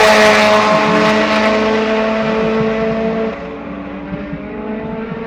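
A 1992 Colt and a GTR roar down the strip in a drag race, one loud sustained engine howl that slowly fades as the cars pull away.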